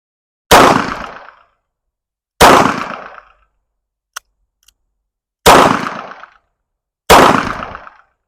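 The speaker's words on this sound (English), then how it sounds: "we'll try to stick to 3 rounds double action, 4 rounds in single shot" Four loud, sharp gunshots from a Taurus 692 revolver, spaced about two seconds apart, each with a short ringing decay, plus a faint metallic click between the second and third shots; no voices.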